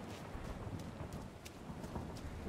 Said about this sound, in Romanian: Mamă, ce fulgeră.